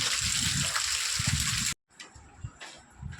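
Heavy rain pours down in a dense, steady hiss, breaks off abruptly, then returns fainter and patchier with scattered bursts of splashing.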